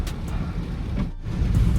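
Steady rain drums on a car during a drive near the Tandi bridge, heading toward Sissu, with broadband rain hiss mixed with low road and engine rumble, continuous and fairly loud throughout.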